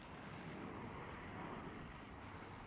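A KLM Cityhopper Embraer E195-E2 jet at Schiphol gives a steady, broadband engine roar that holds near-constant loudness throughout, with a faint high whine rising briefly midway and light wind rumble underneath.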